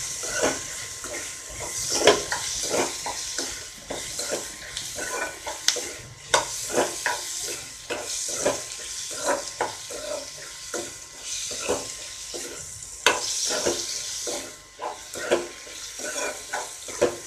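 Tomatoes sauté with salt in a pan for a fish thokku, giving a steady loud sizzle broken by repeated stirring scrapes and clinks of the utensil against the pan.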